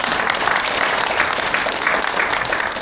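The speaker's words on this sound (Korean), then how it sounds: "박수를" Audience applause at a high school alumni evening event, a steady dense clapping from a large room that holds at an even level for about three seconds.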